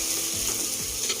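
Onions and spices fry in ghee for a country chicken white biryani, giving a steady close sizzle with a few stirring scrapes through it and no talking.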